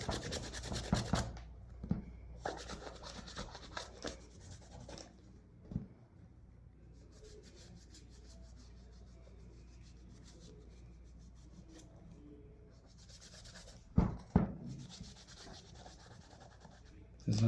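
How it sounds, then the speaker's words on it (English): Baby wipes rubbed across a scratched surface during cleaning give soft, close scrubbing strokes in bursts at the start, then a quieter stretch with a few sharp knocks and a louder swipe near the end. "I am going to wipe it."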